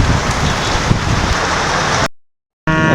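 Heavy rain pours down on a ship in a dense, loud hiss, cutting out abruptly to silence for a moment before returning.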